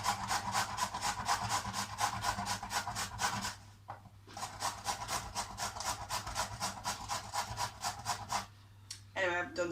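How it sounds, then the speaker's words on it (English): A peeled carrot rubs against a grater in quick, rhythmic rasping strokes, loud and close, with a brief pause midway before the scraping resumes; a short voice sound comes at the very end. "Once you've peeled your carrot, then you grate the carrot"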